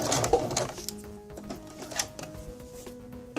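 A sewing machine with a slender needle makes short bursts of stitching, forward a few stitches, back a few, then forward again, while hemming a formal dress with tulle and satin skirts. The whir is soft and close.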